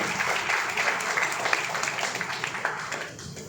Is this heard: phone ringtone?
no